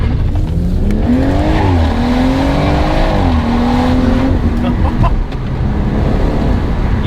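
A BMW M140i hatchback engine is driven hard, with a loud, sustained rising and falling engine drone that shifts pitch as the car accelerates and changes gear, heard from inside the car.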